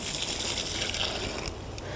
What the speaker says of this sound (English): So first, we'll take our water, pour it on there.